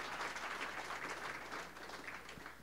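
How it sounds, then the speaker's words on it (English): A convocation audience gives faint, distant applause, a soft wash of many hands clapping in a large hall that stays steady and then tapers slightly. "You can applaud, it's okay."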